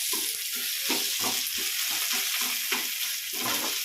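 Ginger, garlic, a green chilli and tomato fry in a pan for prawn biryani, a bright continuous sizzle with a rapid rhythmic scraping of the spatula, close and loud, no talking.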